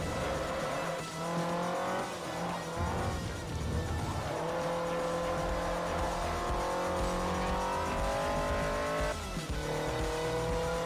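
High-revving race car in Forza Motorsport 4 at full throttle around Tsukuba, engine whine climbing and dropping through gear shifts with brief tire squeal, loud and continuous throughout.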